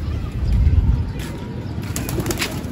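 A pigeon flaps its wings close by while being handled, a short burst of fluttering against a low, steady background.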